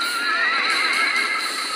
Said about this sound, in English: That was like 5 horses killed by my stakes there